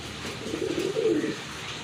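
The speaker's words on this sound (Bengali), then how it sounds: "আর এক জোড়া গিরিবাজ কবুতর দেখতে পাচ্ছেন এখানে" A Giribaz pigeon gives a low, throaty coo, a single rolling call of about a second, close and clear against quiet surroundings.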